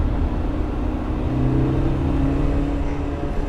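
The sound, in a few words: BMW E30 M3 engine revving with instant throttle response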